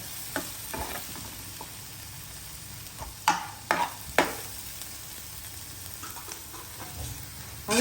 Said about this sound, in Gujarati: ડુંગળીને છે ને ચડતા વાર નથી લાગતી એટલે તરત જ સોફ્ટ થઈ જાય છે